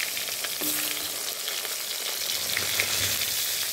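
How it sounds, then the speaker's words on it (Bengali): Eggplant pieces frying in oil left over from hilsa fish, a loud continuous crackling sizzle with a few brief pops, no talking. "এবং সেই তেলেই বেগুনগুলো দিয়ে দিলাম"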